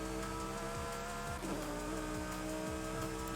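A Lamborghini Huracan Evo engine drones steadily in Forza Horizon 5, loud and continuous with a slight pitch sweep as the car drives at speed.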